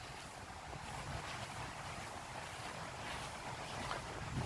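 Steady broadband wash of ocean surf and wind on a beach, continuous and fairly even in level throughout, with wind buffeting the microphone.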